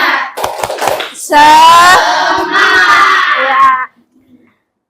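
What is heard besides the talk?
children doing a rhythmic 'tepuk semangat' spirit clap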